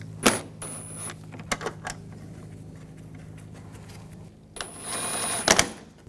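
Bolts are snugged down on a 2004-2009 Audi A4 Quattro headlight in brief bursts of ratcheting clicks and whirring, with a quieter hum between them and a longer burst near the end.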